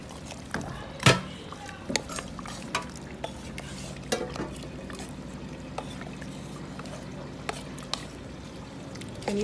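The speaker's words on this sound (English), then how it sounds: "So we're going to be giving this a good stir." Rice with palm oil being stirred in a pot on a gas stove: soft scraping and shuffling with scattered sharp clinks of a utensil against the pot, and a faint sizzle underneath.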